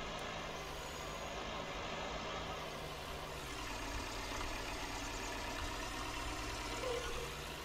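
A combine harvester in Farming Simulator 19 pulls away with its straw spreader switched on: a steady, even engine drone with a low rumble that holds throughout and swells slightly midway, with no talk.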